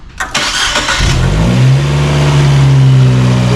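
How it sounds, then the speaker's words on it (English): A Fiat 124 Spider engine cranks and catches, then surges into a rev before holding a strong, steady drone, loud and close with no talking. "Okay, I'm turning on the car."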